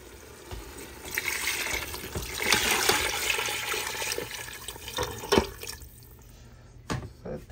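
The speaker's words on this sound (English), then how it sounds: "So I am putting the water." Water pours and splashes into a cooking pot holding boiled meat and pepper for eddo soup, a loud gushing stream that tapers off into a few drips and clinks.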